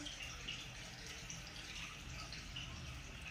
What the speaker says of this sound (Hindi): 1 मिनट तक ये तमाम पानी को मशीन से बाहर निकाल देगी।